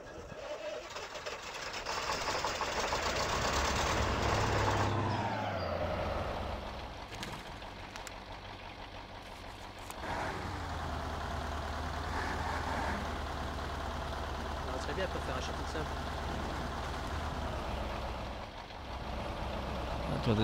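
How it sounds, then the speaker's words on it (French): Truck engine in the off-road driving game Spintires restarting, then running steadily with a low droning rumble for the rest of the stretch, with a brief dip near the end. "On va redémarrer le moteur."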